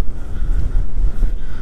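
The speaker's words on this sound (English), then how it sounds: "24 hours a day, 7 days a week, it's just windy." Gusty wind buffets a microphone in low, rumbling bursts, loud and close, with no other sounds standing out.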